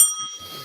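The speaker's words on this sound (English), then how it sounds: "where's my bell?" A bell sound effect rings out with a bright, sustained metallic tone that starts loud and slowly fades, alone with no voices over it.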